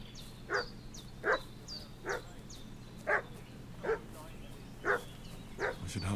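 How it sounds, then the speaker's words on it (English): A dog barks repeatedly in the Kingdom Come Deliverance II video game, about eight evenly spaced, moderately distant barks over a quiet background hum. "What's that dog making such a fuss about?"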